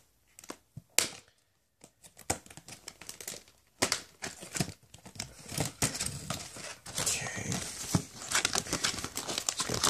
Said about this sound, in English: Pull the plastic off.